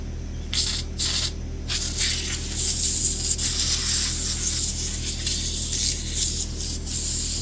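Brake cleaner hisses from an aerosol can in bursts onto a McCulloch 5-10E electric-start chainsaw caked with sawdust, spraying close and loud in short blasts and then a longer stretch, over a low background hum.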